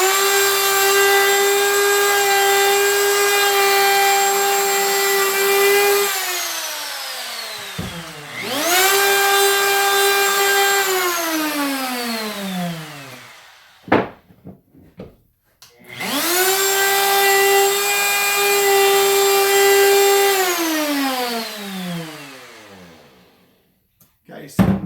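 A wood router fitted with a rebating bit cuts a rebate, whining steadily at full speed, then winding down in a falling pitch and spinning back up again, loud and close.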